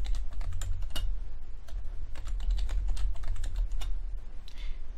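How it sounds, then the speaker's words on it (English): A password is typed on a computer keyboard in quick, close key clicks with uneven rhythm, heard alone over a low steady hum. "type in the password"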